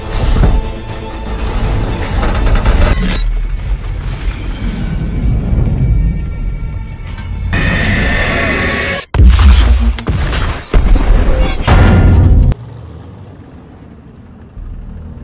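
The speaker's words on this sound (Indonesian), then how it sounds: "T-34 lebih cepat sepersekian detik dan lebih dulu menembak panther" Tank cannon fire in a World War II film battle, a T-34 shooting at a German Panther: loud, close booms and crashing impacts under a dense, rumbling battle mix, with sharp cuts and a quieter low rumble at the end.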